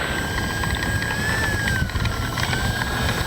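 A Kavan Bristell B-23 RC plane flies in gusty wind, its small engine giving a continuous droning buzz with a gently wavering pitch. The sound is fairly loud over the rush of wind noise.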